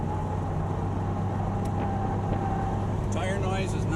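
A car circulates on track at Gingerman Raceway, its engine droning steadily at close range beneath continuous tire and road roar, with a faint tire squeal rising near the end of the lap section.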